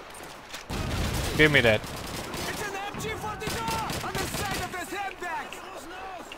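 Gunfire in the World War II shooter Call of Duty 2 pops and rattles in rapid bursts, fairly close and mixed with shouting voices and a crackling battlefield din.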